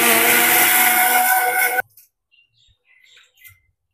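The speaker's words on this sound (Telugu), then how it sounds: "దీంట్లోకి వేసి బాగా సాఫ్ట్గా మిక్సీ పట్టేస్తే మనకు చాలా బాగుంటుంది." A mixer grinder blends bottle gourd peel for dosa batter with a loud, steady whirring roar that cuts off abruptly after about two seconds. Only faint scattered small sounds follow.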